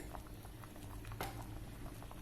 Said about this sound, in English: once it's come to a rolling boil, switch it off